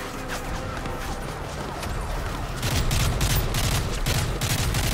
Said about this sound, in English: I'm being shot from somewhere else